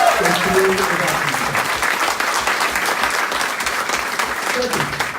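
An audience at a political rally in Center Line, Michigan applauds loudly and steadily, a dense continuous clapping with a brief voice at the start.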